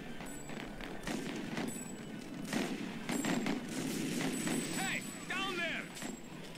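Gunfire in the video game TimeSplitters: Future Perfect, with bursts of shots crackling among game sounds and effects, while a person talks over the action.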